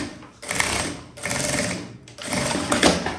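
Sewing machine stitching scraps of fabric for a puffer backpack, running in three steady bursts separated by short pauses, close and fairly loud.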